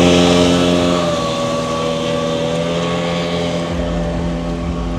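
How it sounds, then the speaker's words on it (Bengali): Motorboat ride on a lake at Dream Holiday Park in Narsingdi, a steady droning engine hum with harmonic whine and some wind buffeting, fairly close and continuous throughout. "দেখুন এরা বোট রাইড করছে।"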